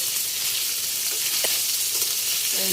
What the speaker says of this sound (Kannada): ನಾನು ಸ್ವಲ್ಪ ಎಣ್ಣೆ ಹಾಕ್ಕೊಂಡು ಹುರ್ಕೋತಾ ಇದ್ದೀನಿ